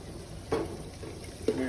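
Curry leaves and mint fry in oil for a Telugu fish curry, a faint sizzle marked by two brief utensil scrapes against the pan.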